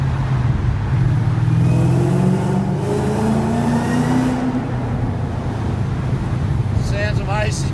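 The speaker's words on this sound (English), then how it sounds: "We're just going to have a little bit of a listen to the exhaust." StreetFighter SF850R-equipped Chevrolet Camaro ZL1 exhaust revving inside a tunnel, the engine note rising and falling in loud, echoing sweeps before settling back, with a faint higher tone near the end.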